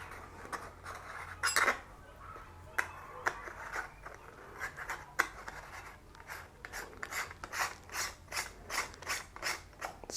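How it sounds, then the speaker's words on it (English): A lens adapter ring is screwed onto a 52 mm camera lens, giving close, crisp clicking and ratcheting scrapes of metal threads, irregular at first, then settling into a quicker rhythmic series of turns. "This should nicely thread into the lens."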